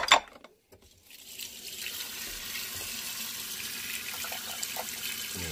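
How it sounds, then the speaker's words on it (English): Water runs steadily into a pot as oxtail is washed clean, a close, even rush after a sharp knock at the start, with faint sloshing underneath. "you put your tail in the pot and you'll wash it, get it clean"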